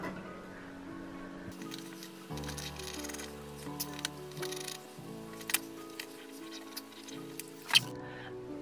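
Scissors cut through fabric for a small Halloween costume, close crisp snips and soft crunching in short irregular bursts over light background noise.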